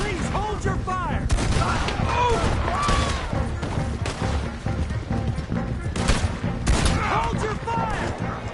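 Gunfire in Red Dead Redemption 2 during a shootout, a dense fusillade of sharp shots crackling near and far in rapid bursts, with voices shouting over the firing.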